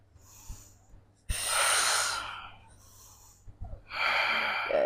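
Breathy open-mouth exhalations during a core exercise, with a short puff early on followed by two long, strong breathy exhales that stand out clearly above a quiet background hum.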